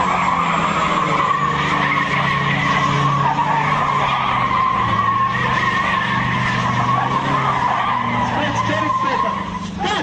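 A car spins 360-degree donuts at full speed, its tires skidding and squealing in a loud, continuous screech with engine roar underneath for the whole stretch.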